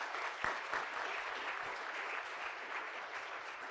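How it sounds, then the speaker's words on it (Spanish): Steady audience applause at a lecture on social reinsertion from a gender perspective, fairly faint and distant, with a few sharper claps standing out near the start. "Muchas gracias y les pido nuevamente un aplauso."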